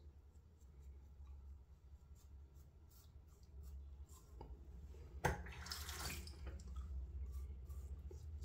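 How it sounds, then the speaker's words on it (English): A sink tap runs quietly in the background, then a louder gush of water splashes as a Tatara Muramasa razor is rinsed, close and continuous for several seconds. "A little rinse."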